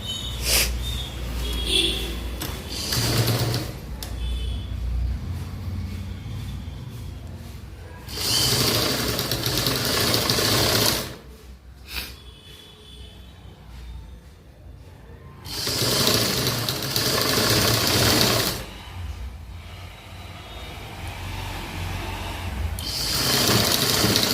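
A sewing machine stitches government school uniform shorts in bursts of rapid mechanical whirring, loud and close, with quieter pauses between runs and no talk.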